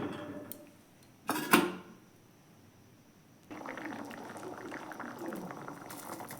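Ghugni curry with added water bubbling in a pot, a soft close simmering burble that starts after a sharp metallic clank of a utensil and continues steadily.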